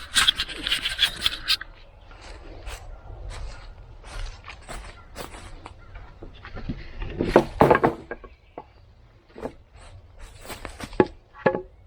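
A board on a wooden treehouse held by screws is pried with a tool, bringing sharp wooden creaks, rubbing scrapes and strained groans in irregular bursts, close by and fairly loud.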